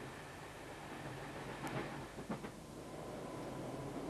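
A train rumbles past at a distance, a steady low roar with a few brief squeals and clanks rising over it.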